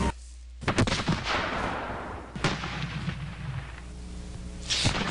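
Artillery cannons fire in the Civil War strategy game Civil War Generals 2, with several sharp booming blasts at irregular intervals and a rumbling, crackling wash between them, loud and without talk.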